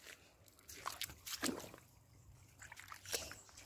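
Cool river water sloshes and splashes around someone bathing, in close irregular bursts with trickling between them.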